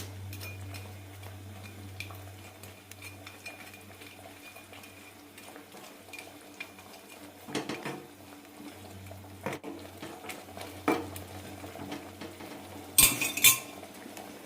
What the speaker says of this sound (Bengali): ফুলকপিগুলো দিয়ে দিলাম, আর দিয়ে দেব মাশরুম, ভেজে রাখা মাশরুমগুলো।